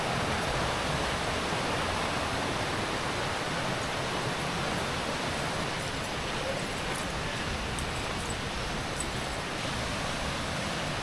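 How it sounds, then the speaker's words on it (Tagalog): A river current rushes steadily along a nature trail near a waterfall, making a continuous, fairly loud broadband wash of flowing water without pauses. "Lagaslas lang ng agos na ilog ang maririnig mo."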